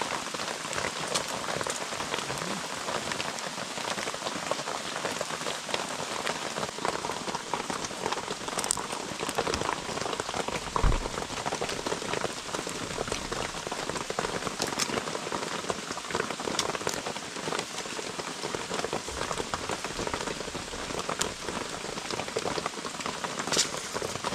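Steady rain patters on surfaces in a continuous dense hiss with scattered louder drops, moderately loud and unbroken.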